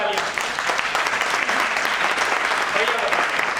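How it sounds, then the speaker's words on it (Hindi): A crowd at a network marketing training event in Meerut breaks into loud, sustained applause, dense clapping that continues throughout with voices faintly underneath. "सेंटी भैया के लिए जोरदार तालियां।"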